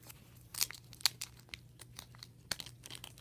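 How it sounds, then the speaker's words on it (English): A packet is dumped out onto a new cat scratcher and rustles, giving a run of sharp crinkling and crunching bursts spaced irregularly over a quiet background, close and fairly soft. "Hear the packet rustling."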